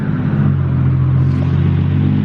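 A Toyota JZX100 fitted with a titanium exhaust runs with a steady, loud, deep idle rumble and a slight rise in revs, close up with no talking.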